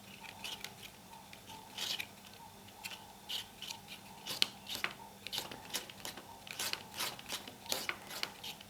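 Heavy body Iris acrylic paint is worked on a palette, giving soft sticky scrapes and dabs that repeat in an uneven rhythm, close and fairly quiet with no talk.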